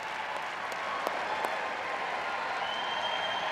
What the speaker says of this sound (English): Lord Coe was out there to lead the applause from this packed Olympic velodrome